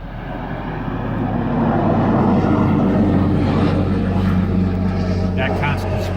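A Pilatus PC-12 turboprop lands in a crosswind at Porter County Regional Airport in Valparaiso, its engine and propeller giving a steady, fairly near droning roar while someone talks over it.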